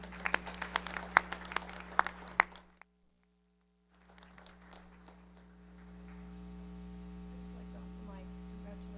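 An audience at a school board meeting gives brief, scattered applause for the parents. The clapping is faint and fades after a few seconds into a steady electrical hum.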